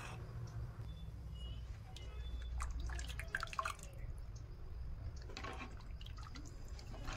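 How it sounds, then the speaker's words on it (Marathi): Water is added little by little to a simmering okra curry, making faint, scattered drips and small splashes close by. A low background hum continues underneath, and no one talks. "एकदाच पाणी न टाकता थोडे थोडे पाणी टाकून अंदाज घ्यावा"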